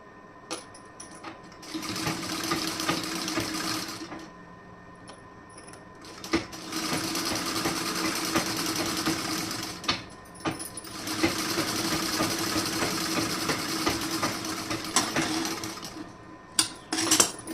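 Sewing machine running in several sustained bursts as it stitches a folded fabric strip for a placket, with brief pauses and handling clicks between runs; fairly close and steady, no talking.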